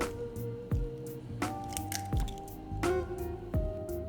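Greek yogurt and eggs dropping into a mixing bowl for a protein cake, heard as a few close, soft wet plops and squishes with light clinks, each separated by a short pause.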